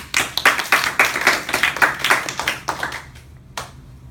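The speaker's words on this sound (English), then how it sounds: "Big round of applause for Smau" A round of applause for a speaker called Smau: a short burst of close, sharp hand claps that tapers off and ends with one last clap.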